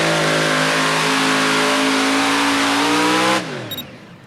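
A Super Modified pulling tractor engine roars at full, loud, steady revs under load during a 350-foot sled pull on a speedway track, holding high and close before cutting off abruptly near the end.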